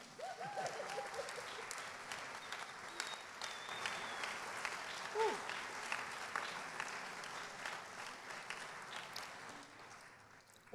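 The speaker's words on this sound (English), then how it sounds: "Please give a very, very big round of applause for Kate and Vladan." An audience at an architecture awards ceremony applauds the winners, a full, sustained burst of clapping that swells and then gradually tapers off.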